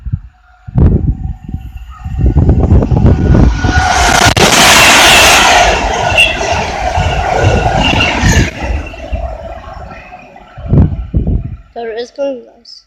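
An Avanti West Coast Pendolino class 390 train rushes past at South Kenton, a loud sustained roar that swells and fades, with someone talking excitedly before and after it.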